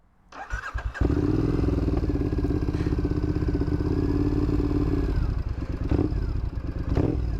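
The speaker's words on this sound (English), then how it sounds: "it's a British motorcycle after all. So let's see, start." An original British Triumph motorcycle engine cranks, catches and settles into a loud, steady, throbbing idle close by, with a few revs and mechanical clatter.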